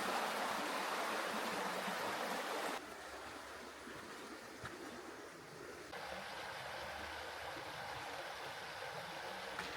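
Never Never Creek in Bellingen, Australia rushes and babbles steadily at close range, a continuous hiss that dips slightly in level partway through, with no voices.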